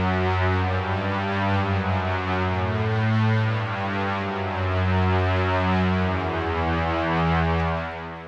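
Toxic biohazard halo strings patch synthesized in FL Studio 20 with eight-voice unison and an added low layer filling the bottom end, a thick, dense, distorted sustained chord pad with shifting notes playing continuously without pause.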